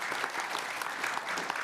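An audience at a leadership forum claps steadily, a dense, even patter of many hands filling the short stretch without any voices.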